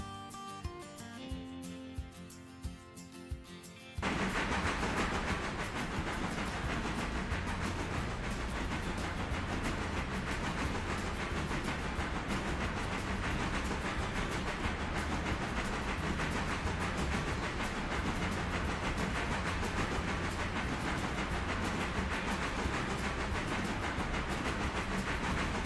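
A train rolling along the track in the railway game Railroader, a continuous loud rumble and clatter that starts after a few seconds of quieter clicks and holds steady to the end.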